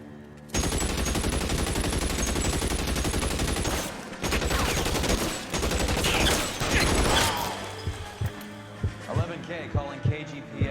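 Dense, sustained gunfire from the LA Noire video game, a continuous loud rattle of shots for several seconds, then a few separate louder bursts near the end, with voices talking over the mix.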